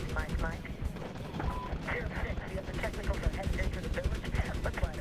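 Rapid gunfire in Medal of Honor while flying an Apache helicopter, dense bursts of shots over booming explosions and game music, with someone talking excitedly over it.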